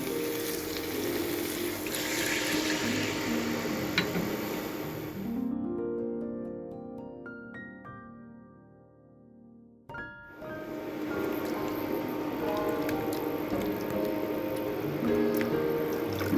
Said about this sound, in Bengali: এবার আমি অল্প করে একটু জল দিয়ে দেবো।